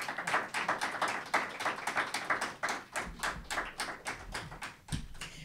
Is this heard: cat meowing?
no